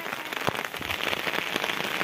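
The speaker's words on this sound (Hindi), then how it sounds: "और बारिश देखो तुम, पानी बह रहा है जगह जगह से" Steady rain falls on surfaces in a hilly area, a dense, close hiss of drops with scattered sharper patters and water running nearby, with no voices.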